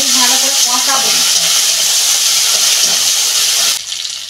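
Ginger garlic paste sizzles loudly in a pan over fried onions for a fish curry, a steady hissing fry that holds strong and then drops off abruptly near the end.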